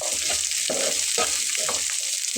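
Food fries in a pan with a steady, bright sizzle as peas are added. Soft stirring scrapes come through the constant hiss, close by and with no talking.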